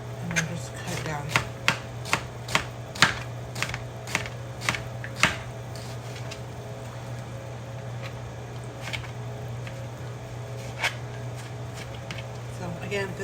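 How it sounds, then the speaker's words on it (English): A knife slices eggplant thin for a stir fry on a cutting board, about nine quick, sharp chops in a row, then a pause and a few more scattered cuts over a steady low hum. "so for the eggplant, I like to cut it very thin because I'm going to stir fry it"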